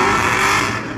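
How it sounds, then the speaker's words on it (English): A very loud, harsh drift car engine roaring close by at a drifting competition, with a bright raspy high end, lasting about a second. "Oh, this is just the noisiest car."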